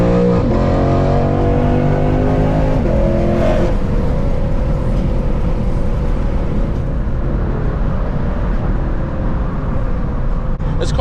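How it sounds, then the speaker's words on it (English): A Lexus RC F V8 with a catless, tuned exhaust roars loudly under acceleration, its pitch climbing through gears with brief shift breaks, then settling into a sustained heavy drone up close. "I'm about to show him a true V8."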